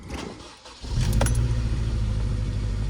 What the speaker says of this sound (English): It's gonna run like crap for a second, but I'm gonna let it idle, heat off.